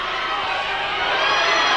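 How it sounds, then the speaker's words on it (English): A rugby league crowd at a Dewsbury versus Batley match, Good Friday 1996, cheers in a loud, steady, swelling roar of massed voices with no single voice standing out. "The crowd now starting to get behind Dewsbury,"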